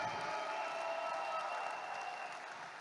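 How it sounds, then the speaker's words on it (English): An audience at a Team Supreme Pegasus gathering applauds its Reway leaders: a steady, even wash of clapping that stays fairly faint and distant for the whole stretch, with no clear single claps. "Can we give our Reway leaders a round of applause today?"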